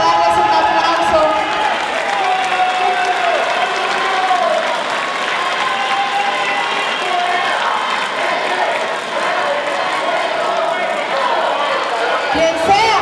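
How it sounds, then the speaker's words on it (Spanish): Loud, sustained applause from the audience at a public informational assembly in Naolinco, Veracruz, with steady crowd clapping throughout and voices mixed underneath. "aquí vamos a darles un aplauso"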